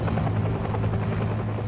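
A Bell UH-1 Huey helicopter flies by, its steady loud rotor thump and engine drone filling the whole short stretch with no voices.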